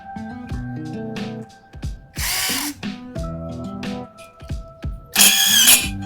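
Two loud bursts of a Canlidi cordless brushless impact driver's rapid hammering whir driving a screw into steel, with musical tones and clicks playing in the background.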